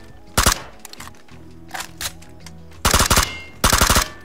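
Automatic gunfire from the PUBG video game rings out in short, loud rapid bursts: one early, then two longer volleys near the end, with fainter scattered shots and thuds between and no talking.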